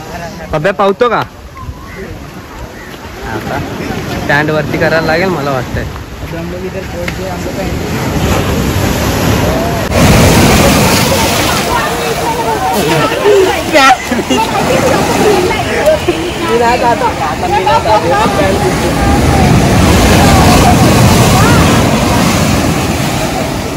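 Waves break and wash around a boat during a ride at a marine zoo in Mumbai, under wind and constant nearby talk and crowd chatter.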